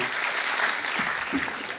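A short burst of steady clapping from a crowd at a school parents' dance event, dense and continuous throughout.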